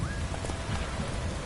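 Steady rain falls in a dense, even wash of drops, moderately loud and close, with a faint low rumble beneath and no voices.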